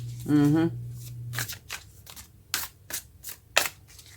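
Quick bursts of tarot cards being shuffled, several riffling flurries up close, after a short vocal sound and a low hum at the start.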